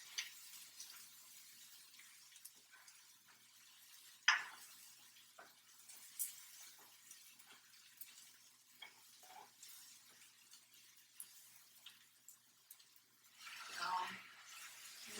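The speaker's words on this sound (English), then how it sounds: "Just give this a little stir." Sauce being stirred in a pan, with soft scraping and sizzling strokes that stay faint and scattered, plus a brief louder clatter near the start and a swell of frying noise toward the end.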